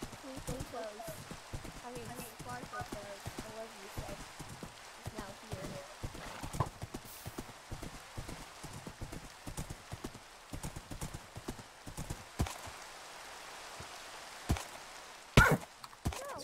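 Minecraft horse hooves clip-clop in a steady, rapid patter at a moderate distance, with a brief neigh near the end, all fairly faint under background game ambience.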